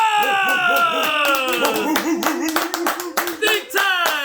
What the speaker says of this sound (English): Everyone, please give a big, warm round of applause for Abe Gulama!